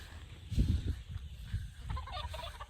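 A young rooster (stag) gives a few low, soft clucks and murmurs close by, in short irregular bursts over a quiet background.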